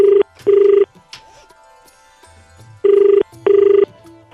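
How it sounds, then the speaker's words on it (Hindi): A telephone rings twice in a radio studio as a call is placed to a listener on a Hindi morning FM show, with the two pairs of clear, loud electronic ring bursts separated by a quiet gap and faint background sound. "तो अब हम फोन लगाते हैं और अपनी माँ से बात करते हैं।"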